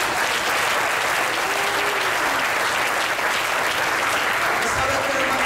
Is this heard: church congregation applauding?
yes